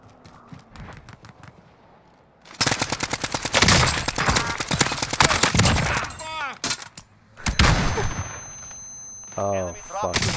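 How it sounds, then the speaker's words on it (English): Video game gunfire rattles in rapid automatic bursts, loud and close, starting after a quiet opening and then breaking into shorter volleys mixed with other game effects. "I can't control this gun at all."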